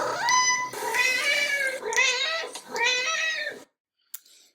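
Several domestic cats sitting by their food bowl meow for breakfast in quick succession, a run of clear, close, tonal meows with rising and falling melodies, followed by a brief pause and one short faint call.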